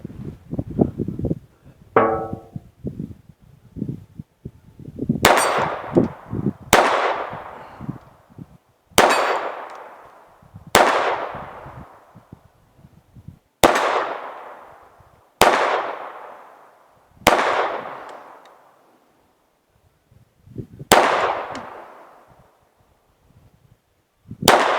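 Walther P22 pistol shots ring out one at a time against a steel target, each sharp crack followed by a metallic clang, about eight or nine spaced shots with short pauses and quiet between.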